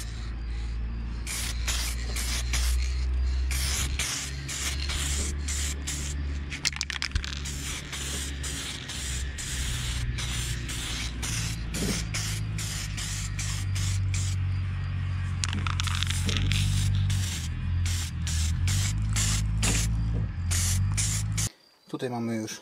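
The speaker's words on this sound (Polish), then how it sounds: "No i zwykłym sprayem to spróbuję psiknąć." Acrylic spray paint hisses from a can onto lead carp fishing weights in a long run of bursts, each a close, steady hiss with short gaps between presses, over a constant low hum.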